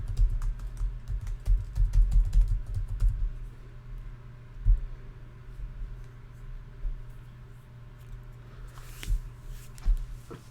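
Password keys tapped on a computer keyboard: a quick run of close, crisp keystroke clicks, busiest in the first few seconds and then more scattered, over a steady low hum.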